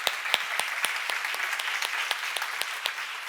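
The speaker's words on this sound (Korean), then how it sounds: "하나님 기쁘시게 하고 싶은 사람만 박수 한번 쳐봐" Congregation clapping at a church seminar, a steady crowd applause with distinct sharp individual claps popping out on top, moderately distant and even in level.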